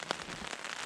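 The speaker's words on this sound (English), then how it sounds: "Here we go. Light drizzle." Light drizzle pattering on a tent, a soft, dense crackle of tiny drops with one sharper tap near the start, quiet and continuous.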